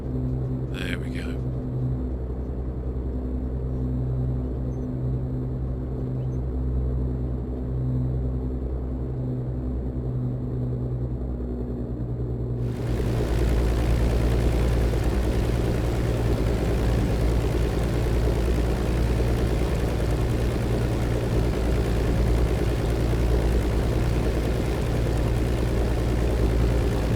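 A steady propeller engine drone from an XF-11 aircraft in Microsoft Flight Simulator over California, a continuous loud rumble that grows fuller and louder partway through and holds steady to the end.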